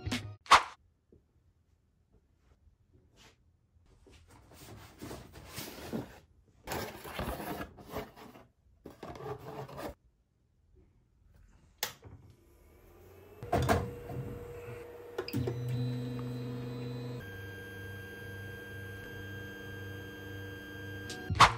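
FDM 3D printer printing a bottle box, starting with scattered knocks and clatters, then settling into steady motor whirring with sustained tonal stepper whines, heard close and fairly quiet without talk.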